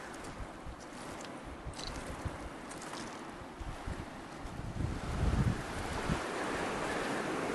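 The Yellowstone River flows past as a continuous rushing wash, mixed with wind buffeting the microphone, swelling louder midway before settling, with no talking.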